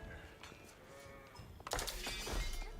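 Sheep bleat faintly within a strategy video game, set against a busy bed of game sounds and clattering effects that swell louder in the second half.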